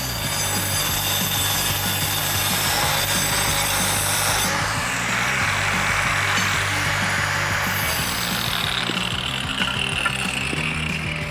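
A power tool cuts continuously through material while building a pit for whole hog cooking, a loud sustained buzzing saw noise up close with shifting pitch as the cut progresses.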